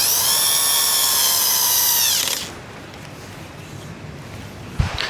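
A power drill drives screws into a wooden home office desk. A loud, high whine runs for about two seconds and spins down, followed by quiet handling and a single thump near the end.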